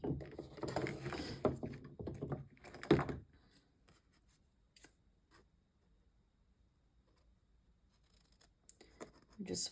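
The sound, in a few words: scissors cutting scrapbook paper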